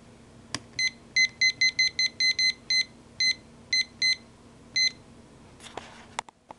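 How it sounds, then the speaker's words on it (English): A kitchen timer beeps as it is set for a cooking countdown, giving a quick series of short, bright button beeps in irregular clusters, close and clear, followed by a brief clatter. "I'm going to set my timer for 12 minutes"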